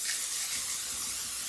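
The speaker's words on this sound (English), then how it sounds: "I'll do just one Pan spray." Close, steady hiss of cooking spray from an aerosol can misted into a pan before pancakes are made, a single continuous burst with no talking.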